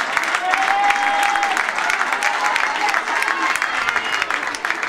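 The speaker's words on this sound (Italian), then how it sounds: "Ecco d'arrivo per il vostro applauso," Audience applause greeting performers at a local centre event, steady crowd clapping at moderate distance with a voice speaking briefly over it.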